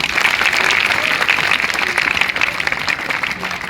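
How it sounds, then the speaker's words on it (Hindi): An audience applauds its teachers at a school gathering, a dense, steady wash of many hands clapping that stays loud and continuous throughout, easing slightly at the very end. "जोरदार तालियां गुरुजनों के लिए"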